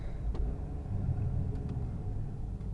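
A Jeep Grand Cherokee engine idles roughly with a constant low, uneven rumble heard up close, its rough idle tied to stalling and hesitation on throttle, with no voices.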